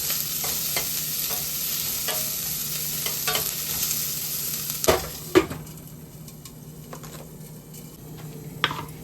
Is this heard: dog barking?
no